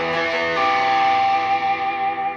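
Gretsch G6118T Anniversary Edition guitar with Filtertron pickups, played through distortion with the bass pushed: one sustained, harmonically rich chord rings out and gradually decays, loud and alone.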